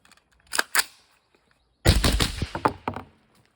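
Suppressed gunshots firing 150 grain Fiocchi ammunition through a TUA 9R suppressor: two quick sharp cracks, a short pause, then a louder cluster of reports with a lingering ringing tail, close and loud.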